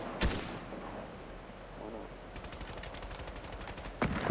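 A pump shotgun fires in Fortnite: one sharp, loud blast at the start and another near the end. Between them comes a patter of distant rapid gunfire, with faint game noise underneath.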